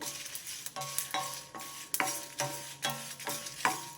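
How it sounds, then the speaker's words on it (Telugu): Dried red chillies and coriander seeds frying in a pan for bitter gourd spice powder, heard as a steady dry sizzle broken by about five regular scraping stirs of a spoon, close and moderately loud, with no voices. "ధనియాలు ఎండుమిర్చి వేగినాయండి"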